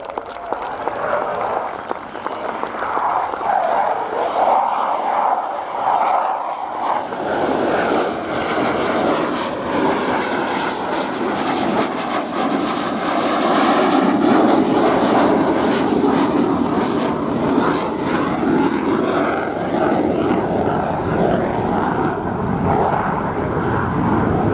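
A fixed-wing aircraft roars past at the Royal International Air Tattoo airshow, engine noise swelling loud and close, then sweeping overhead and slowly fading, with faint crowd applause underneath.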